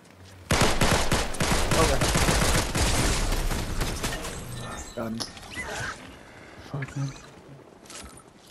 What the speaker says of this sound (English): I got shooting up ahead.